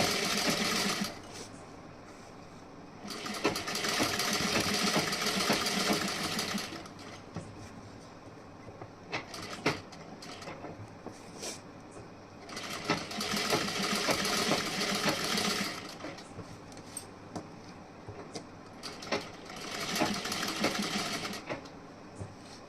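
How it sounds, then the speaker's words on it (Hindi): A sewing machine double-stitching a blouse runs close and loud in three long bursts of steady whirring, with quieter pauses, small clicks and handling noises in between. "यहाँ पे हमें इस तरीके से डबल सिलाई कर देनी है।"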